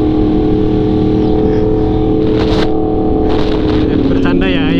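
A Yamaha R1M motorcycle accelerates hard on a touring ride around Lombok's Mandalika circuit area, its engine roaring loud and close with rising revs and wind rush, while a rider talks over it.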